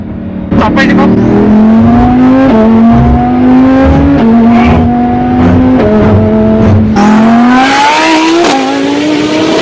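A 1,000-horsepower Lamborghini HTO, heard from the cabin, roars hard as it accelerates, its engine pitch rising and snapping down at several quick gear changes, very loud and close throughout.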